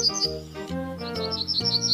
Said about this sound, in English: Yellowhammer.